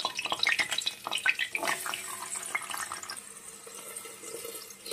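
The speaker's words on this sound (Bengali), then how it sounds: "এর মধ্যে আমি গাজরগুলো দিয়ে ভেজে নেব।" Carrots frying in hot oil in a wok: a faint, crackly sizzle that is busier with popping at first, then settles into a softer, steady hiss, with no talking.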